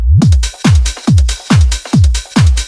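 Hard house drum top loop from a sample pack, layered drums, claps and percussion over a thumping kick on a steady four-beat pulse, loud and dense with no voices.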